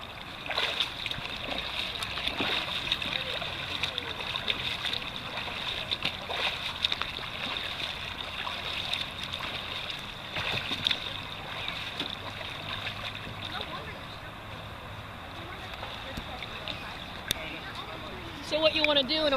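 Open water swimming strokes churn and splash steadily in a continuous wash of water noise throughout, a swimmer practising sighting and breathing technique for sprint triathlon.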